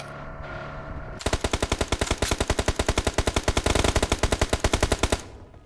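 Sustained automatic gunfire in the mobile battle-royale game PUBG Mobile, a loud, rapid, evenly spaced string of dozens of shots lasting about four seconds before stopping, heard alone with no talk.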